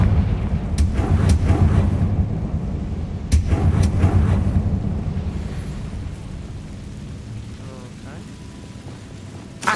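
A Confringo blasting spell from Hogwarts Legacy erupts in loud, booming bursts with sharp cracks, then rumbles and fades away.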